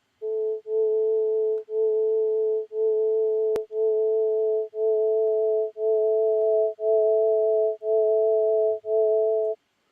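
Synthesized vowel-like tone with one raised higher harmonic, sounded as nine even, steady beeps of equal length separated by short gaps, clean and alone.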